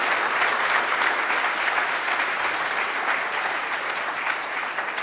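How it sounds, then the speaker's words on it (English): A luncheon audience gives a sustained round of applause, dense steady clapping that fills the room at even loudness for several seconds with no voices over it. "applause."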